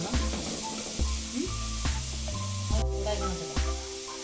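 Carrots for vegetable momos sauté in a hot pan, a continuous close sizzle punctuated by regular clattering stirs of a spatula, with no talking.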